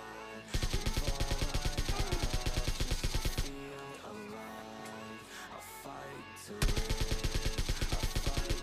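Rapid automatic fire from PUBG Mobile Lite plays in two long, loud, evenly spaced bursts, with a stretch of quieter mixed game sounds and scattered shots between them.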